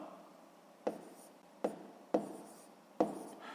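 Numbers written on paper during a sixth-grade math lesson, heard as four short, crisp strokes spaced unevenly over a few seconds, close and quiet with no talking.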